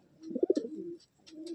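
A Madrasi pigeon of an old bloodline coos in a loft, a short close burst of throaty pulsing coos followed by a softer trailing coo.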